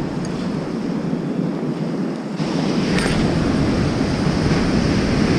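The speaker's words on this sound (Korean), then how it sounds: "파도가 넘어와." Sea waves break on Hanseom Beach on Korea's east coast in winter, a rushing wash of surf mixed with gusty wind buffeting the microphone, which swells louder partway through.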